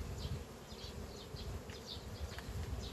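A honeybee buzzes faintly and steadily near a polystyrene diaphragm board inside a beehive, a soft continuous drone with small wavering rises in pitch.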